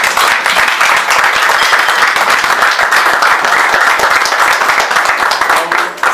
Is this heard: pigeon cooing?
no